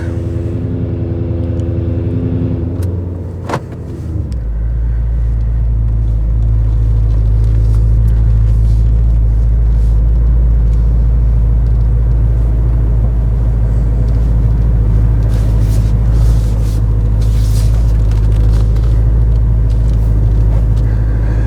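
A Lexus GS-F V8 with an aftermarket exhaust starts up, then settles into a loud, steady, deep idle rumble that holds close and continuous.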